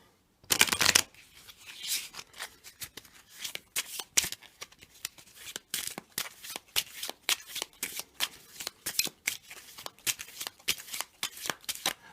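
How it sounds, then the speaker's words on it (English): Game cards, matchday and position cards, being shuffled by hand in a tabletop game, a loud riffle burst followed by a long series of quick rhythmic flicks and snaps up close, with no voices. "And now I'm going to shuffle in the matchday cards with the remaining position cards, like so."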